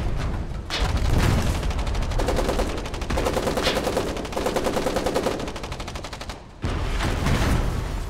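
Tank guns firing during a Foxhole battle, with rapid, loud bursts of automatic fire rattling close by, interrupted by heavy booms, a long sustained volley and a brief pause before firing resumes.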